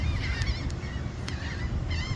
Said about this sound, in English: listening to the seagulls fly over by the hundreds